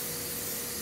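A spray bottle hisses in a steady, close burst of spray, coating a pan of baked yeast rolls to give them a glossy finish.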